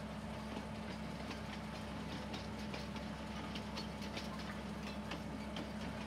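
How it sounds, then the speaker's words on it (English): Steady low rumble and rhythmic clatter of a train rolling through a tunnel in Farming Simulator 19, continuous and moderately loud for the whole stretch, with no voices. "Gosh, I could just ride the train."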